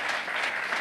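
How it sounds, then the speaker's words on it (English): Applause at a sports conclave panel, a steady dense patter of clapping through the whole moment, moderately close with no voices over it. "I don't know why he's clapping."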